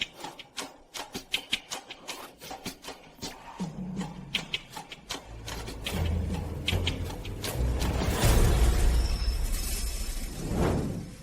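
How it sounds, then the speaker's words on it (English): A clay figure is smashed: a run of sharp, brittle clicks and clatters builds into a rough crashing, scattering burst of breaking pieces, fairly faint and with no voices. "what Ming Yan smashed was exactly the figure Yu made of me"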